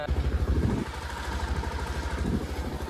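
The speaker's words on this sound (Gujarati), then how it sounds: "આ બાઇક ચલાવે" A motorcycle engine thrums close by while the bike is ridden, a steady low pulsing drone that swells briefly at the start and again later.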